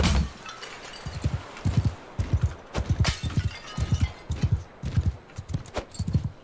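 Horse hooves clip-clop at a steady trotting rhythm in Mount & Blade 2: Bannerlord, a run of close, distinct thuds with a few sharper clinks mixed in, under a faint ambient wash.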